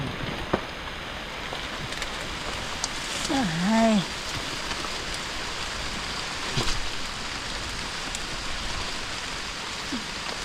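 Steady rain patters in a forest during mushroom picking for amanita mushrooms, a broad hiss of drops on leaves with a brief voice-like call midway and occasional louder drips.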